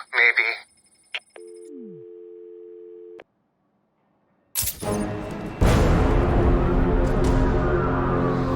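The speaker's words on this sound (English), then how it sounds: "Zsasz calling for Batman. Find my phone or I'll bleed this piggy" A telephone rings in the video game Batman: Arkham City, a few electronic ring tones on a near-silent background, then loud crashing and rumbling game noise takes over.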